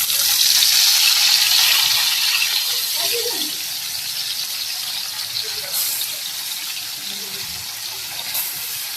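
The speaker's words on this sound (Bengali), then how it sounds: "এখন মাছগুলা ভেজে নিব।" Fish fry in oil on a tawa pan, giving a steady, close, hissing sizzle that is loudest at first and then settles slightly quieter.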